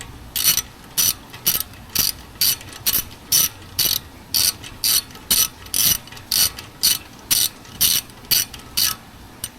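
Ratchet wrench tightening wheel spacer nuts on a vehicle hub, a steady series of about twenty quick, crisp clicking bursts in regular rhythm, close and clear with no talk.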